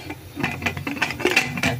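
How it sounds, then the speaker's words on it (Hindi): A few sharp metallic clinks and clatters of a lid settling onto a metal pressure cooker, close and fairly loud. "तो अभी इसको हम ढक्कन लगा देंगे"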